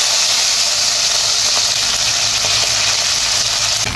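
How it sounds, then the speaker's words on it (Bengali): Small mourala fish hit hot mustard oil in a wok, giving a loud, continuous close-up sizzling hiss with no talking. "মাছগুলো কড়াই দিয়ে দিচ্ছি।"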